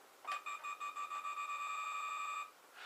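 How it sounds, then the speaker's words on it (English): Electronic sound effect from a 2009 G.I. Joe Rise of Cobra Night Raven toy jet: a rapid series of beeps quickening into a steady tone for missile lock-on, cut off after about two seconds, thin and tinny. "which obviously sounds like a missile locking on and firing."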